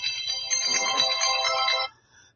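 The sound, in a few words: phone ringtone ringing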